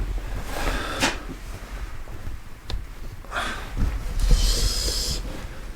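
A newly fitted wooden interior door swings shut with a soft thud and latch click, followed by a couple more quieter knocks and rustles in a room, with no talking.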